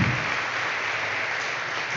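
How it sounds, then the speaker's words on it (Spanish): Steady applause from a church congregation, a dense continuous patter of clapping that holds evenly for the whole stretch without pausing. "¿por qué no dan un fuerte aplauso?"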